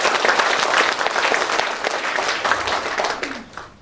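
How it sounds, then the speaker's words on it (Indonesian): An audience at a nurses' association installation ceremony in Indramayu applauds the regent, a dense sustained burst of many hands clapping that fades out near the end. "Beri aplaus sekali lagi buat Ibu Bupati Kabupaten Indramayu."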